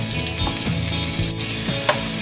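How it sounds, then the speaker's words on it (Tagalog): Garlic and onion sautéing in a pan for pancit bihon guisado, a loud steady sizzle of oil with occasional stirring clinks and scrapes, no talking. "Magigisa ako ng bawang at sibuyas."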